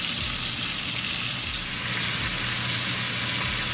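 A large roast sears in a hot pan with a steady, close, dense sizzle that holds evenly from start to finish, with faint low clatter underneath and no voices.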